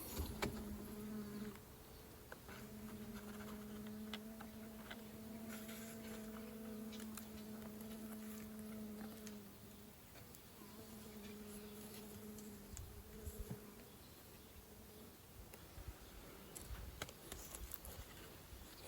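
Honeybees in a mini nuc hive give a steady, tonal buzz close by that drops out twice for short gaps, with soft tapping and clicks underneath and no talking.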